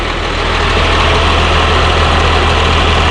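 A CAT C7 7.2-liter turbo diesel engine idles at the back of a 2006 Bluebird Excel transit bus. It gives a loud, steady, low drone with no change in speed and no voices.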